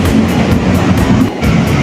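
KRL commuter train bound for Bogor, a loud, steady rumble of wheels on rails with regular rhythmic clacks beneath a continuous close roar, no talking.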